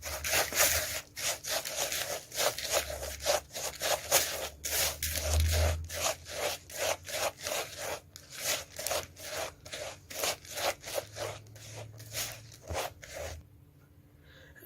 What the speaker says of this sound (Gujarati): હવે આ શુગરને આમાં નાખી દઈશું. આપણે બરાબર મિક્સ કરી લઈશું.